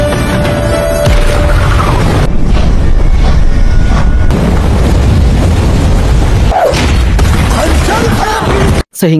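An explosion blows apart the coupling between train wagons in an action film scene, a loud, sustained roaring blast with dense rumbling debris noise that carries almost the whole time and cuts off abruptly at the end.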